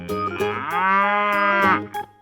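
A single long, drawn-out cow moo from an animal video game, loud and close, rising slightly in the middle and fading off at the end, with no talking over it.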